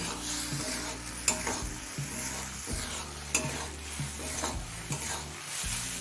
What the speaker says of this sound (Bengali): এবার হাই ফ্লেমে আরও কিছুক্ষণ রান্না করে ভেজে ভেজে ভাবটা একটু কমিয়ে নেব